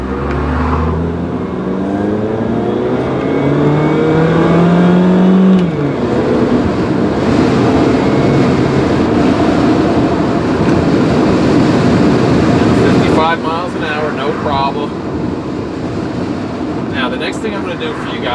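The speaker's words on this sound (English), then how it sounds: "hit the gas pretty hard so you can hear it change up through the gears really well." A 2000 Daewoo Leganza CDX revving hard under acceleration, its engine note climbing in pitch, dropping at each upshift and climbing again through the gears, loud and close from inside the car.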